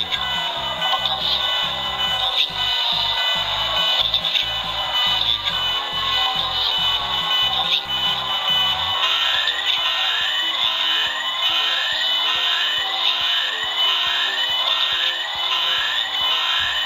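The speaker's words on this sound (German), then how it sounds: "Dann haben wir meinen Lieblingssound auch bei den anderen Fahrzeugen, den Alarm." An electronic alarm from a Playmobil Space Mars Station toy (set 9487) wails continuously, first as a pulsing siren-like tone and then shifting into fast repeating sweeping beeps, loud and close with no talking.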